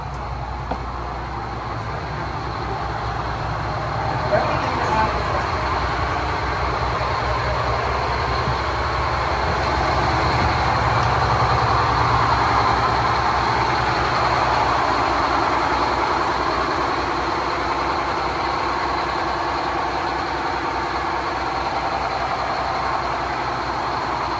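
A yacht's large main engines idle in a steady, deep rumble with a constant mechanical hum, continuous and unchanging, with no talking.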